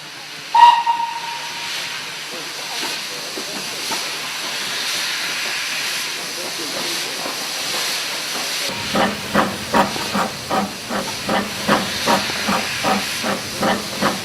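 Steam locomotive Sagoma hisses loudly with a sharp whistle-like burst at the start, then settles into rhythmic chuffing exhaust beats as it pulls away, close and clear.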